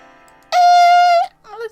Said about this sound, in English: Foundry bells.